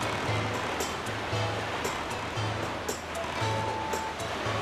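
Sea waves while sailing in The Legend of Zelda: The Wind Waker, a steady wash of surf and rushing water with soft rhythmic game tones repeating beneath, moderately loud and continuous with no talk.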